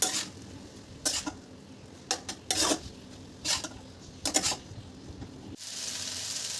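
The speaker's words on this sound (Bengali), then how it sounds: "সব কিছু একসাথে মিক্সড করে নেব।" Boiled chowmein noodles being tossed and mixed in a pan at home, with scattered bursts of scraping and clattering utensil-on-pan contact between quieter stretches, close by, ending in a steady hiss.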